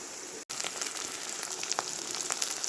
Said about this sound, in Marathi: तोपर्यंत हा मसाला भाजून घेऊया